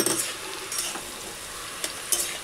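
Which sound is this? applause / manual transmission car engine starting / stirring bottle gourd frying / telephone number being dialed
stirring bottle gourd frying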